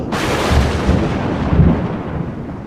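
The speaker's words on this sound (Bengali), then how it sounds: "আকাশ জুড়ে বেজে উঠল ঝড়ের জগঝম্প" A thunderstorm sound effect with a loud, continuous rumbling roar of thunder and heavy storm noise that swells twice, around the middle and again a moment later, with no voices.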